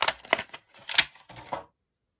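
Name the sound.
taking Star Wars action figure out of plastic packaging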